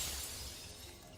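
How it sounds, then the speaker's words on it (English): A shattering crash from the video game Wuthering Waves, a single breaking-glass burst that fades out over about a second, fairly quiet and heard alone without speech. "That was not a bang sound, that was a shattering sound."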